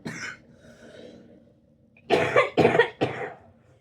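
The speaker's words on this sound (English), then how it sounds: "Sorry about that, had to cough." A person coughs three times in quick succession, harsh and close, after a quieter breathy sound at the start.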